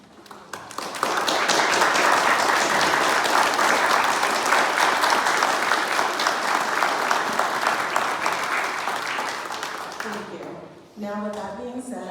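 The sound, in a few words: standing audience applause at induction ceremony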